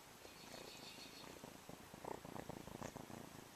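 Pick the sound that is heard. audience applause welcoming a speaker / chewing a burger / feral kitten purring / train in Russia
feral kitten purring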